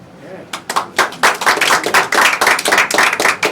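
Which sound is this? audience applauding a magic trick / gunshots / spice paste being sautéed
audience applauding a magic trick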